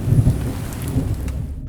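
Steady rain pours with a low thunder rumble underneath, close and fairly loud, while the higher hiss thins out toward the end.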